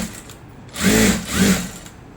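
Sewing machine top-stitching a salwar pant, two close motor bursts of whirring stitching separated by a short pause, loud and alone without speech.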